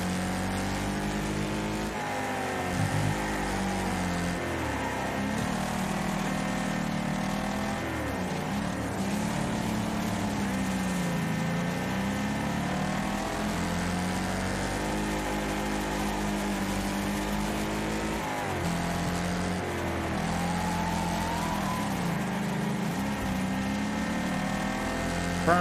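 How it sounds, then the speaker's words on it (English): Race cars in the Wreckfest demolition racing game drone and rev continuously, engine pitch rising and falling as they accelerate and shift, with one car's engine standing out over a busy, steady roar. "that guy's car is the most annoying sound I've ever heard."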